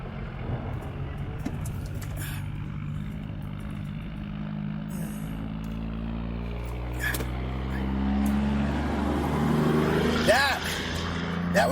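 A giant truck passes on a two-lane highway in Oklahoma, heard from inside a moving car as a low rumble that swells to a heavy whoosh near the end over steady road noise.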